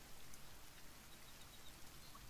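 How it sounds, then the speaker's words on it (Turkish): Soft, steady rainfall in the video game The Forest hisses evenly throughout, faint and unbroken, with no voices. "Yağmur yağıyor"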